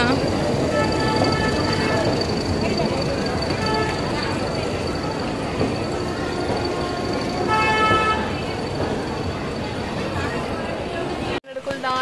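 A train rumbles steadily at a station with its horn sounding in repeated blasts, loud and close, while voices chatter faintly underneath.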